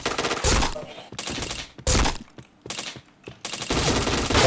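Dense bursts of gunfire from a shooter video game come in several loud, close fusillades separated by brief gaps, sharp and rapid like automatic fire, with no talk over them.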